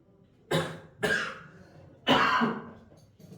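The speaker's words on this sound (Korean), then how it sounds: "계속 기침이 나와서" A teacher coughs three times during a high-school math lesson, with sharp, rough bursts spaced unevenly across a few seconds, close to the microphone and with no talking between them.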